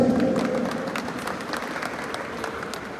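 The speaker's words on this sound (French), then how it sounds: "chers assistants, je vous demande d'applaudir Maître Emmanuel G.L. Alphonse." An audience at a graduation ceremony of a law, economics and management faculty in Cap-Haïtien gives a full round of applause, with dense clapping that fades slightly toward the end.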